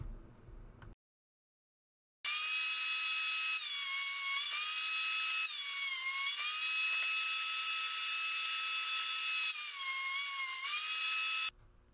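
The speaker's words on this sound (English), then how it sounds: "I bring them over to the planer and cut them down to 1" A thickness planer cuts rough wood boards down to 1 3/4 inches. After a short silence, a loud, steady high-pitched machine whine runs for about nine seconds and dips in pitch several times as the blades bite into the wood.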